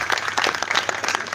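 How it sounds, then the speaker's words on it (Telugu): An audience at an Ambedkar birthday celebration speech claps together, giving a brisk, uneven patter of many hands that stays fairly loud and near for a brief burst. "గట్టికోసారి చప్పట్లు కొట్టండి."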